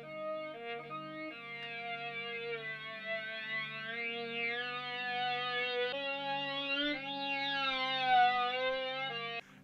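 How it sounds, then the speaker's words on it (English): A Yamaha YDS-150 digital saxophone plays a sustained wavering tone with a wah-like wow effect, its pitch sliding and shifting across several notes, steady and moderately quiet with no talking. "it would make a wow sound, and that's the sound that they're emulating here"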